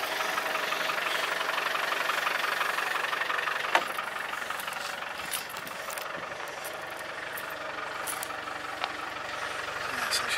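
A 1988 Land Rover 110 with a 300Tdi diesel engine idles, a quiet steady low clatter running throughout with a few faint knocks, no talking over it.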